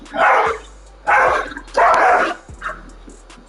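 A dog barks in three loud, sharp bursts that come close together, followed by a softer trailing yip and quieter sounds at the end.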